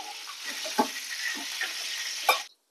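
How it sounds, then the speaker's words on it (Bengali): Katla fish head frying in a pan gives a steady oily sizzle with a few soft stirring scrapes and clinks, one sharper clatter near the end as it is lifted out, close and alone. "আমার মাছের মাথাটা ভাজা হয়ে গেছে"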